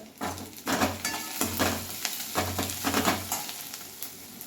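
Garlic and ginger frying in a pan, a close sizzle broken by repeated bursts of stirring and scraping in an uneven rhythm.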